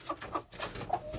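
Kuroiler chickens cluck in a coop, a few short soft calls repeating close by and fairly quiet, with no talk over them.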